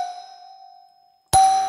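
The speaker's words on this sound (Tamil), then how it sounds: "உங்களுக்கு டிங் டாங்கிற மாதிரி இந்த மாதிரி ஒரு சவுண்ட் மாதிரி வந்துகிட்டே இருக்கும்" A household calling bell wired to a bell switch gives a fading electronic ding-dong chime, its tone decaying to silence before a second loud chime strikes and rings on, close and with no voices.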